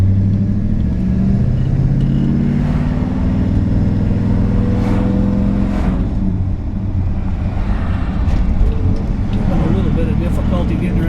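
A 1964 Ford Galaxie 500 with a 427 engine and four-speed manual gearbox rumbles as it is driven, its engine note climbing and dropping through gear changes, while someone talks over the steady low drone.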